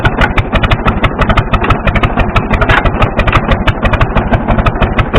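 Gasoline-start diesel engine on an International machine, revved under throttle: a loud, close, steady rapid pulsing chug with dense rhythmic firing and no talk.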